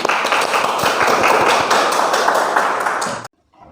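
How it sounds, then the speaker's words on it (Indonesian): A classroom of agriculture students applauding together, dense continuous clapping at steady level for about three seconds, then stopping abruptly into near silence. "Oke, tepuk tangan untuk kita semua."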